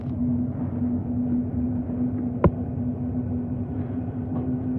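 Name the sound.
freight train passing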